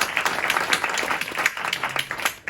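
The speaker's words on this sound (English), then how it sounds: "A big round of applause for us." Applause from an audience at a talk on tactical urbanism, a steady patter of many hands at moderate loudness lasting the whole moment with no voices.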